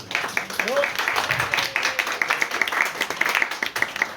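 An audience at a literary conference on women's crime fiction applauds with steady, dense clapping throughout, while a voice speaks briefly over it.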